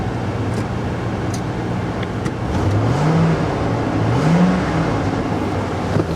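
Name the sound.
car engine running while driven forwards and backwards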